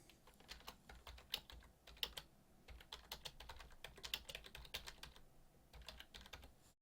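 Typing on a computer keyboard, a quick irregular run of crisp close key clicks with occasional heavier taps, quiet and without talk.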